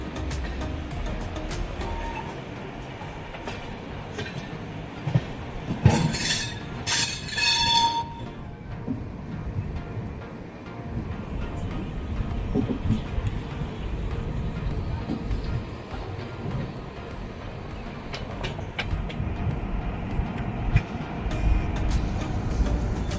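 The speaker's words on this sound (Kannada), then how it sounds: "ಫೈನಲಿ ಯಶವಂತಪುರ ರೈಲ್ವೆ ಸ್ಟೇಷನ್ ನಾವು ಎಂಟರ್ ಆಗ್ತಾ ಇದೀವಿ." The Vasco–Yesvantpur Express (17310) rolls into Yeshwantpur railway station in Bengaluru, with a continuous rumble of wheels and carriages and a brief horn or squeal burst early on.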